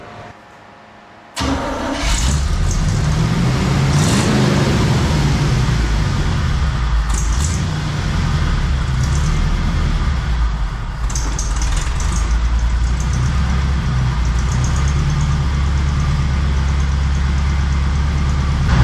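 A 1966 Chevy C30 dually truck that sat for 15 years cranks and fires after a short quiet gap, then settles into a loud, steady rough idle that runs on without a break, with slight surges in the rumble.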